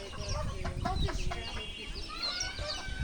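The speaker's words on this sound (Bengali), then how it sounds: "এগুলো হচ্ছে আমাদের দেশি মুরগি, আরও আছে অবশ্যই।" Native village chickens cluck and chatter close by in a steady, busy mix of short calls, with hens and roosters together, while other farm birds chirp faintly in the background.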